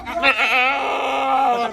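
A goat bleats in one long, loud, wavering cry close by, nearly two seconds long, with no other sound around it.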